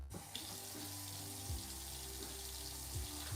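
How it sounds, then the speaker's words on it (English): A kitchen tap runs in a steady stream while vegetables are rinsed under it, a constant close splashing hiss with a few faint clunks, no talking. "We gotta rinse out these veggies."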